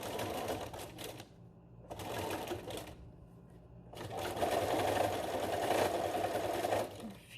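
A sewing machine stitches a fabric face mask, finishing with a few short back-and-forth securing stitches; close, steady whirring runs in bursts separated by brief pauses.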